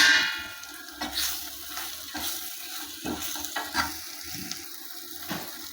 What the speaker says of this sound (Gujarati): બે મિનિટ થઈ છે આપણે એકવાર હલાવી લઈએ